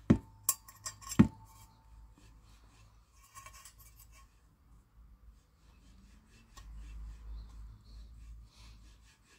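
Small screws on AC3D flexible links are loosened with a hand tool. A few sharp metallic clicks come at the start, followed by quiet rubbing and scraping. No one speaks.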